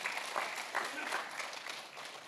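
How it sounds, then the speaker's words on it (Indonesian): Brief, fairly faint applause from a church congregation during an Indonesian Sunday service in Manado, a rushing patter of clapping with voices heard over it. "Berikan tepuk tangan buat Tuhan kita."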